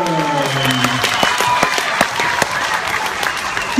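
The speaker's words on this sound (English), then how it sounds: "Can you please continue that applause for Dan's opponent, Jindrich Velecky?" Applause at a boxing match: a crowd claps steadily with scattered sharp individual claps, while a voice speaks over the start and then fades out.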